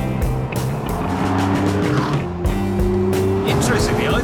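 A Pagani Zonda supercar, with its evocative metallic mechanical clatter, is driven past at close range, its engine note rising and falling loudly over a steady background of music and commentary-level sound.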